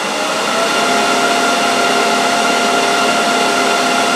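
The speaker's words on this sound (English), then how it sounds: "there you now have the lathe on full speed" An Axminster AT508WL wood lathe runs at full speed, around 3,750 RPM, giving off a steady, loud, unbroken motor whine and whirr with no talk.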